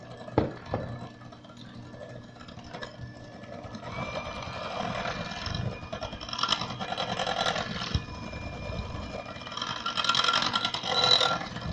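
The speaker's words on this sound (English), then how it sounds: "This is not the most amazing mixer, but it works." A modest electric mixer whirs through coconut cream, a steady motor hum with rising, grinding surges as the beaters work, close and moderately loud, opening with a few knocks.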